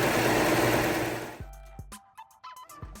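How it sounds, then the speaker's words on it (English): An overlock sewing machine runs a chain stitch along the fused edge of a fabric piece for a double welt pocket. It whirs loudly and steadily for about a second and a half, then stops, leaving a few faint clicks and taps. "we're cleaning that edge with our chain stitch from the overlock"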